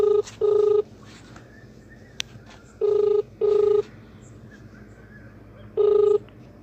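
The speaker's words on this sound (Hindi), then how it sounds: "फिर फ़ोन लगा रहा हूँ मैं।" A phone call rings through on the line as a repeated ringback tone in paired pulses, sounding three times with quiet gaps between over a faint background hum.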